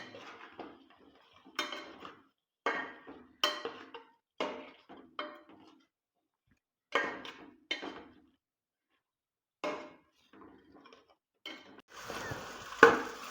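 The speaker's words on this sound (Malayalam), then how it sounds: "ഒന്ന് നന്നായി എന്നിട്ടൊന്ന് മിക്സ് ചെയ്ത് കൊടുക്കാം" Chicken with butter being stirred in a pan, a series of short clanks and scrapes of a utensil against the pan, spaced irregularly with quiet gaps, ending in a brief burst of louder clatter.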